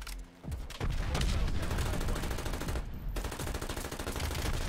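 LC10 submachine gun fire in Call of Duty Cold War: a short shot, a brief pause, then long, loud, rapid automatic bursts that are close and continuous, with one short break near the end.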